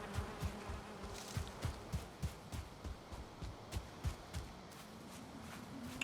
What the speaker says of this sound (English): Take that, bees.